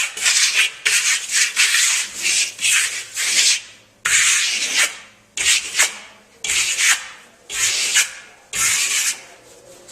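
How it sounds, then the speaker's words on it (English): A soft bristle brush sweeps American Clay LimeWash across a damp wall in crosshatch strokes, each a loud, close, rough swish, coming in rhythmic bursts with short pauses between and no voices. "to work out the brush marks with that soft bristle brush"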